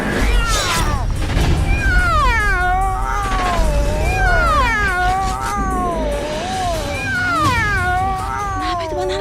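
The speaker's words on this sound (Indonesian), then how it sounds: "Ada kucing hitam." A black cat meows repeatedly in long, wavering, caterwauling cries, loud and close, one call after another with no clear pause, over a steady low background rumble.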